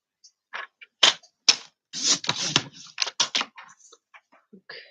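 A paper panel is cut at 5/8 inch, giving a series of crisp clicks and short scraping strokes at irregular intervals, close and fairly quiet, with no talking.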